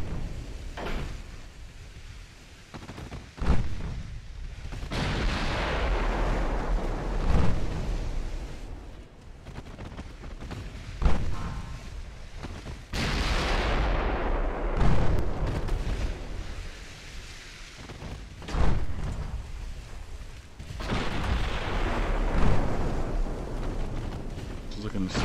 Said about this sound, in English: Just watch the 15-inch shells.